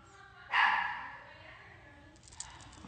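A small dog gives one loud, close bark, then a fainter yelp follows, with low background noise and no clear talk.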